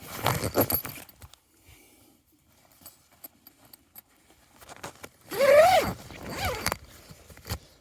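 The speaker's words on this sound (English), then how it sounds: "I'll just open the zip" A zipper on an Outdoor Revolution Kalahari awning is drawn open outdoors, giving a few short scratchy rasps and clicks with quiet gaps, then a louder close zip burst near the end.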